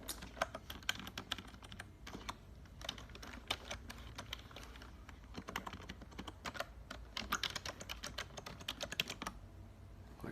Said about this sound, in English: You be sitting there typing like 8 different passwords